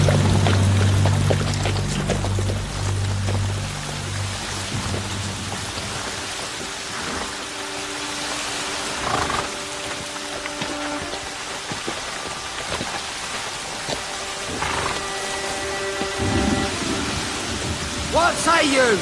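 Heavy rain pours steadily throughout a storm scene in a medieval drama, with low rumbles of thunder underneath and brief voices and sound-effect accents rising over the downpour.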